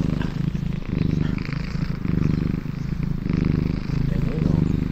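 A cat purrs close up in a steady rhythmic rumble of repeated breathy pulses, with people talking quietly in the background.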